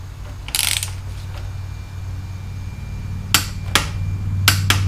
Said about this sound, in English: I am tightening these lower bolts to 40 foot-pounds.